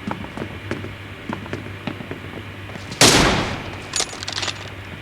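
Video game gunfire fired into the air: one loud burst of shots cracks out midway, with faint scattered pops and clicks before and after.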